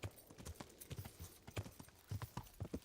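Horse hooves clip-clopping at a brisk, steady rhythm while riding in Kingdom Come: Deliverance, the beats close and clear on a quiet background with no talk.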